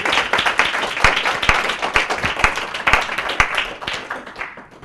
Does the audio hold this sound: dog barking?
no